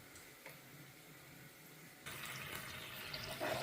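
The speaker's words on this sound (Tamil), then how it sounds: "புளி தண்ணி ஊற்றிட்டேன்" Tamarind water being poured into a cooking pot while making seeraga samba biryani, a steady splashing pour that starts abruptly and continues loud and close, with some faint kitchen clatter before it.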